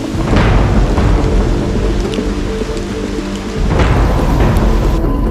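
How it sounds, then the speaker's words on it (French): Rain begins to fall during a hike to the Carbet waterfalls in Guadeloupe, a loud, steady wash of drops with deep rumbling bursts like thunder, with no voices. "Et pour couronner le tout, il commence même à pleuvoir."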